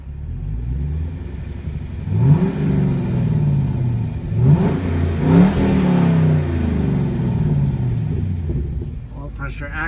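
A 2010 Chevrolet Camaro SS/RS V8 idling with a low rumble, then revved twice with rising and falling exhaust roars, loud and close from inside the car.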